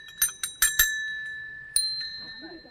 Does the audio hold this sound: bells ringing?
yes